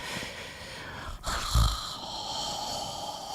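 Loud, close breathing right into the microphone, rough and wheezy, with one heavier snort-like exhale near the middle.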